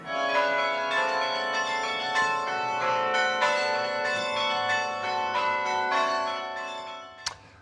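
Carillon bells ring out in a bright, overlapping peal of many struck notes with long ringing tails, steady and close for several seconds before fading, ending with a sharp click.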